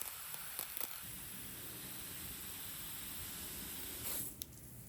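An Orbit Pro Series garden hose nozzle with metal body set to its mist pattern, giving a quiet, steady hiss of fine spray with a few brief clicks and a short louder burst near the end.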